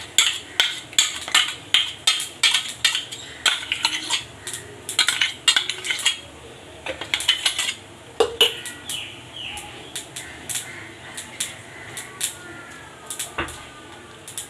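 Tempering (tadka) crackles in a small pot of chutney, with dense, rapid, sharp pops and clicks that are loud at first and then thin out into scattered crackles.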